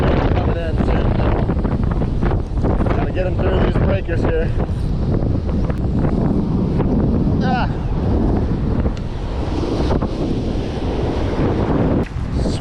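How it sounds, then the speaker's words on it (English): Strong wind roars across the microphone on a beach during surf fishing, a loud, constant buffeting blended with breaking surf and occasional faint voices. "This wind's starting to pick up."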